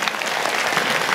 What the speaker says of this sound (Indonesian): Tepuk tangan untuk Pak Haji Sulaiman.